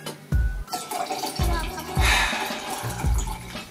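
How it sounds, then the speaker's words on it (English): Gatorade pours into a dust boot in close, uneven glugs and splashes, with several low thumping gulps of liquid at irregular intervals over a few seconds. "pouring it into the dust boot"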